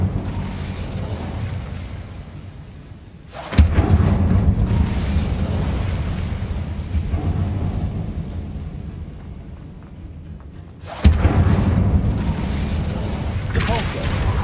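A fire spell cast in Hogwarts Legacy lets out two loud booming blasts, each hitting sharply and then settling into a sustained low, rumbling roar, with a quieter stretch between them.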